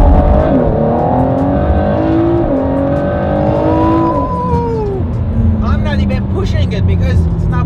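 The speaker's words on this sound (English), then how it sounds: "It's crazy to think this is a V6 and it sounds like this." A Ford GT's V6 engine revs hard up close, its loud, smooth tone climbing and falling in pitch through several sweeps before settling into a lower drone, with a voice briefly at the end.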